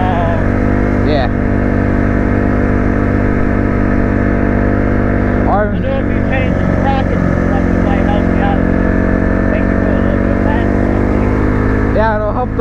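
A 2021 Suzuki RM-Z250 dirt bike engine drones steadily on a relaxed dirt road ride, close and loud with a constant buzzing tone, as people talk over it.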